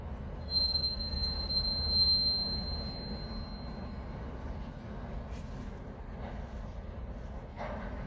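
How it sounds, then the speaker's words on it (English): Westbound Norfolk Southern intermodal freight train getting moving, a low continuous rolling rumble with a thin steady wheel squeal early on, heard from trackside at moderate distance. "this westbound slash southbound Norfolk Southern Intermodal is once again"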